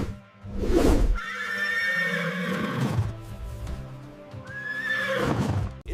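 A horse neighs and whinnies in several long, loud calls, close by and alone, with a faint clip-clop of hooves mixed in between the calls.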